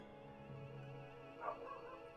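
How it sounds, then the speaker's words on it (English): A dog barks and whimpers in the Parasite Eve video game, a brief yelping burst rising over a steady droning game soundtrack. "And my dog's barking again."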